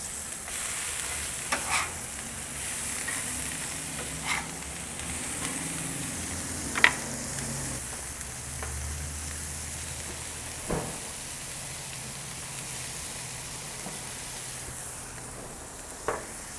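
A smash burger patty with pepper jack cheese fries on a flat griddle while a crispy cheese skirt forms, a continuous close sizzle with scattered sharp spatula taps and scrapes, no voices.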